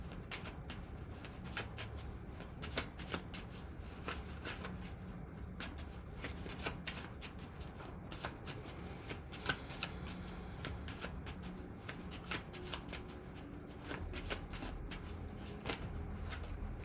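Tarot and oracle cards are shuffled by hand in a continuous soft riffling and sliding texture with frequent sharp flicks, close and quiet, going on steadily without any talk.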